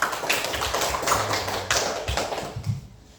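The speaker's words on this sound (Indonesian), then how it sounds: "Tepuk tangan buat kita semua" Students in a classroom clap their hands together for everyone, a dense, steady patter of many hands close by, with no voices over it.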